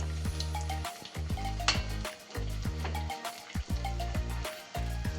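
Sabudana vada frying in hot oil, a steady crackling sizzle punctuated by repeated clinks and taps of a utensil against the pan.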